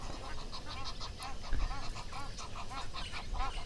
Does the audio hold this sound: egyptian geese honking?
yes